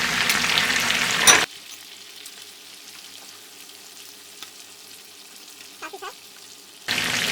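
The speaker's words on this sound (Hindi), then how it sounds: "जिंजर गार्लिक और ग्रीन चिलीज को साथ ही फ्राई करेंगे।" Chicken frying in a pan with ginger, garlic and green chilies for Balochi tikka, a quiet steady sizzle with a few soft stirring clicks, framed by louder bursts of sizzling at the start and end.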